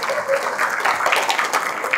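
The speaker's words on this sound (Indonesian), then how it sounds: "Berikan tepuk tangan ya." A seminar audience claps for a guest being introduced, a dense patter of hands lasting a couple of seconds, steady and fairly close, with some talk mixed in beneath it.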